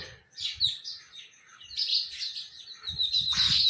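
House sparrows chirp and tweet in quick, bright bursts, fairly close, with a few soft low thumps in the background.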